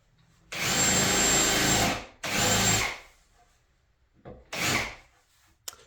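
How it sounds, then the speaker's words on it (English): A power drill countersinks screw holes in wood for a loft ladder in a shed build: two long, loud whirring bursts, then a short blip and a brief third run, with quiet pauses between. "I'm countersinking all my screw holes."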